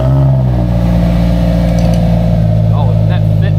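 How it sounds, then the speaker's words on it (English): Car engine running through a newly fabricated exhaust on a daily driver, a steady loud drone with harmonic rumble and slight revving throughout, with voices faintly over it. "Listen for exhaust."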